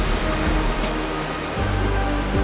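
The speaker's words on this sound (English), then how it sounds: "which happens to be Gullfoss, a gorgeous waterfall, and that translates to golden waterfall" Gullfoss waterfall in Iceland roars with a dense, constant rush of water, loud and steady throughout with no voices.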